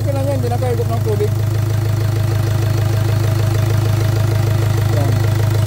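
A Hyundai Accent engine idles with a steady low hum and faint rhythmic knock, its air cleaner fault after drawing in water noted, running continuously throughout while someone talks over it.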